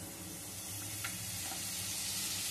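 Spice paste for a Bengali fish curry with Bombay chili fries in a pan, giving a steady close sizzle with faint stirring taps throughout.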